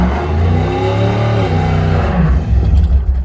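Engine of a 1968 Pontiac Firebird barn find, steaming from the exhaust, revving loud and close, the pitch rising and falling across several throttle pulls before a rougher low surge at the end.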